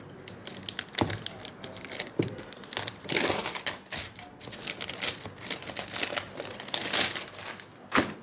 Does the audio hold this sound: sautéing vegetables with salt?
no